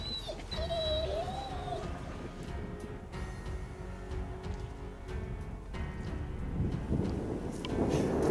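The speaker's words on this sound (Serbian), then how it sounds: "Psi nervozni." Nervous hunting dogs whimper on a roe deer hunt in Zmajevo, a few high thin whines early on, then mostly faint outdoor noise with wind buffeting the microphone.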